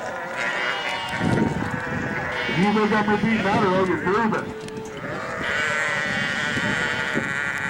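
Sheep bleating repeatedly at an outdoor gathering in Medicine Lodge, 1998, the wavering cries rising and falling in the middle and near the microphone, with people talking throughout.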